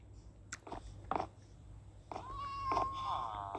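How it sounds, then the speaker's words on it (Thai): A cat meows a couple of times up close in a Minecraft knockoff game, a drawn-out rising meow near the end, amid soft clicks and a faint voice. "มีเสียงแมวด้วยนะครับ"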